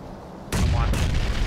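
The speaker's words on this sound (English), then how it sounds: "Chucking a grenade." A single loud, close grenade blast bursts suddenly in the PUBG Battlegrounds video game, followed by a second heavy crack and rumbling decay within about a second.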